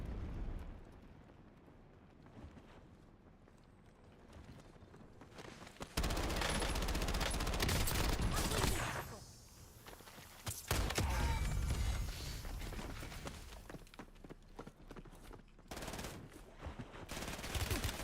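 Video game gunfire in Warzone or Battlefield 6, dense bursts of rapid shots and explosive blasts that come and go in loud waves over about eighteen seconds, close and harsh, with no talking.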